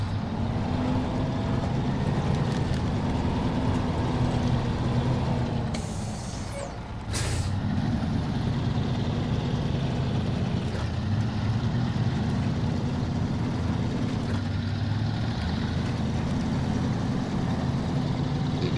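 Truck engines idle and rumble in the SnowRunner video game, a steady low drone for nearly twenty seconds with a sharp air-brake hiss in the middle.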